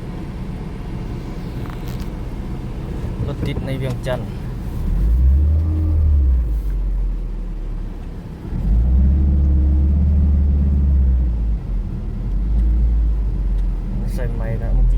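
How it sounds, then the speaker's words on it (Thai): Cars stuck in a traffic jam in Vientiane, Laos, give a steady low engine rumble that swells in heavy waves, with a voice talking over it. "โอ้รถติด"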